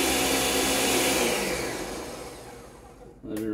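Blender chopping kiwi and mango for homemade hot sauce, a loud close whirring grind that winds down over a few seconds, then a brief click or restart at the end.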